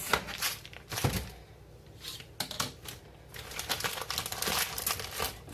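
Knife cutting a slice off a block of hard Parmesan cheese, close-up scraping, crunching and crinkling sounds with a few sharp knocks, fairly quiet.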